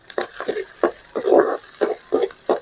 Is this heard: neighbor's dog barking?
no